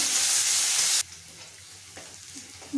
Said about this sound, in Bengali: পেঁয়াজ কাঁচা লঙ্কাটা ভালো করে ভেজে নেব